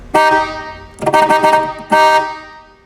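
The horn of a 1964 Studebaker Avanti, wired directly with a jumper wire, blares loud and close in three honks: a long blast, a choppy middle burst, and a final shorter one.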